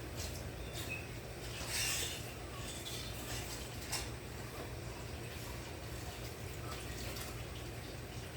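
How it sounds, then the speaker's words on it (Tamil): Steady splashing and running water poured into a pot of rasam, continuing evenly throughout with faint clinks of cookware. "இப்போ நான் இதுக்கு தேவையான தண்ணி ஊற்ற போகிறேன்"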